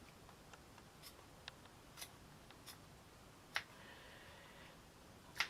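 Scissors snip through the leaves of a handmade shabby-style paper flower, giving a few sparse, faint ticks followed by two sharper, crisper cuts, close by in an otherwise quiet room with no talking.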